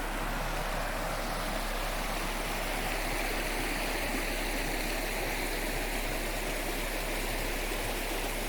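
A river flows right beside a campsite near Wheelers Creek Hut, giving a steady, dense, rushing wash of water that stays even throughout with no other sounds.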